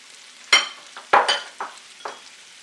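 Onion and ginger-garlic paste hit a hot pan for chicken noodle soup, giving sharp bursts of sizzling as each addition lands, followed by fading hiss between them, close and fairly loud.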